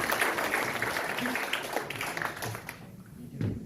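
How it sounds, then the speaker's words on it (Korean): An audience claps and applauds after a mayor's lecture at a political party members' rally, a dense wash of clapping that carries on and gradually thins out. "다시 한번 멋진 강연을 해주신 시장님에게 큰 박수 부탁드립니다"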